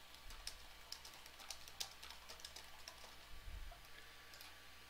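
Typing on a computer keyboard to enter a title, a quiet run of light, irregular key clicks over a low steady background hum.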